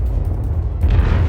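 A heavy, rumbling explosion as an aircraft carrier is destroyed in the naval battle game World of Warships, a sustained low boom that swells louder toward the end, with no talk over it.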